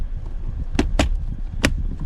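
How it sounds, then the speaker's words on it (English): The center console of a Chevrolet Malibu snaps into place with three crisp plastic clicks, close and distinct over a faint low background rumble. "snap the main console in"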